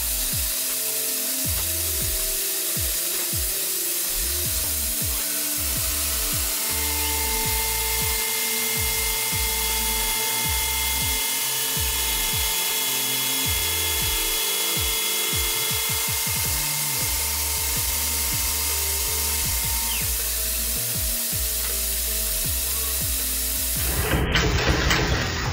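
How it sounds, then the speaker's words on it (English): A CNC gear hobbing machine cuts steadily, its low rhythmic chugging churn repeating under a faint mechanical hum for the whole stretch, with a brief rattling burst at the very end. "CNC hobbing at its finest."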